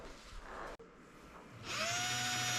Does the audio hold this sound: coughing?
no